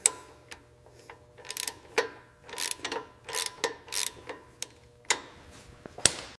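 A ratchet torques bolts on the engine of a 1960s Triumph Bonneville T120 during a rebuild, heard as close, fairly quiet clicking in irregular bursts, with short runs of ticks separated by brief pauses.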